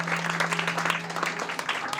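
An audience at a beauty-school graduation ceremony applauds, producing a brief, dense patter of clapping from many hands at moderate distance, with a faint voice murmuring underneath.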